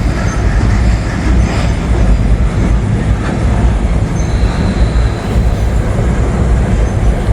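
A train rolls past on the tracks close by, a loud, continuous rumble of wheels and engine with faint clatter, steady throughout with no voices.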